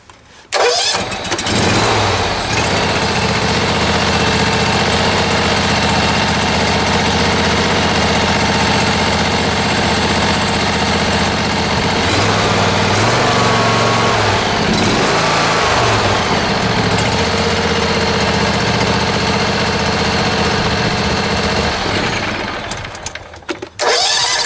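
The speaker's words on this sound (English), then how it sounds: "we'll fire it up and let it run for a minute" A neighbour's rig engine cranks over and catches, then settles into a loud, steady idle that runs close by for about twenty seconds, with a faint rise in revs midway and no talking.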